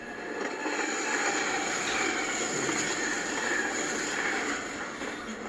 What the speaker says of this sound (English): It's a train coming.